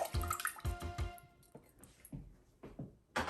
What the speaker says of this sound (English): fill the medium-sized pot with 2 inches of water